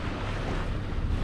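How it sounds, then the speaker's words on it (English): A light breeze and waves wash around a Catalina 34 under sail, a steady broadband rush with wind buffeting on the microphone and no distinct splashes. "right now it's just a light breeze coming right from the bow"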